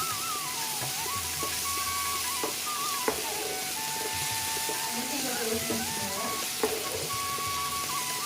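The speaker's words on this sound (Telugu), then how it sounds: "ఇప్పుడు అల్లం చిల్లిపాయ పేస్ట్ వేస్తున్నాను దాన్ని కూడా పచ్చివాసన లేకుండా మనం వేయించుకోవాలి" Ginger garlic paste frying with onions in a pan, a steady hiss of sizzling oil with occasional spatula clicks and stirring scrapes, with faint tonal background sounds and no clear speech.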